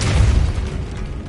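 Depulso force spell cast in Hogwarts Legacy, a short heavy boom with a thudding low burst that fades quickly, loud and close.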